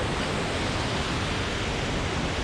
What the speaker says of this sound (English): We made it to the viewing platform for Stanley Gill Waterfall.